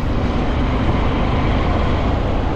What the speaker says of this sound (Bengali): এই ব্রিজের নিচ দিয়ে ট্রেন যায়, আসামের প্রথম ডাবল ডেকার ব্রিজ